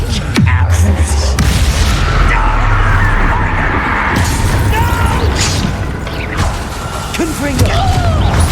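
A Bombarda blasting spell goes off in the Hogwarts Legacy video game, a loud booming crash followed by rumbling debris and clatter inside a mine, with game voices and effects around it.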